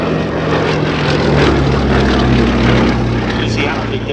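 A Westland Lysander propeller aircraft flies at the Shuttleworth Fly Navy Airshow 2022, its engine a steady, loud, close droning roar that holds level throughout.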